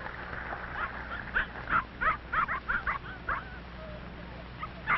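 A big red setter barks and yips in a short burst of several quick, fairly close calls in the middle, over a muffled, low background.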